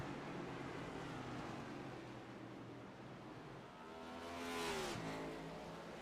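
A race car in iRacing, a steady engine drone that rises into a loud revving sweep near the end as it climbs through the gears, with no talking.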